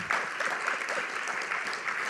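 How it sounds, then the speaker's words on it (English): Soft, distant round of audience applause after a talk on post-amputation pain management, an even, muted patter of many hands lasting a couple of seconds. "Do you want to give them another round of applause?"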